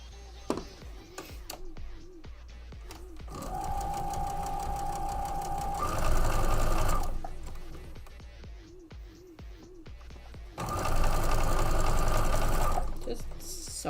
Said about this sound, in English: Just sewing up squares